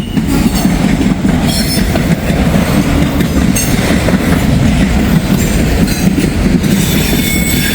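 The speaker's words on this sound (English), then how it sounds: "It's a pretty good train here." A freight train pulling heritage locomotives rolls past on the rails nearby, a loud continuous rumble with rhythmic wheel clatter and occasional squeals throughout.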